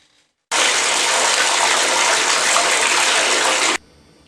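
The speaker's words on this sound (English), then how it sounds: "now we're gonna fill up the tub" A tap gushing water into a bathtub, a steady loud rushing stream that starts abruptly, holds evenly for about three seconds close by, then cuts off sharply, with no voices.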